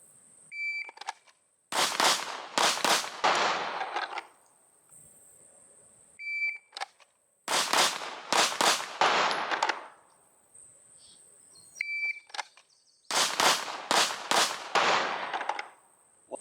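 Pistol fired in performance training drills, with three strings of four or five sharp, loud shots in rapid succession, each preceded by a shot-timer beep, and quiet pauses between strings at an outdoor range.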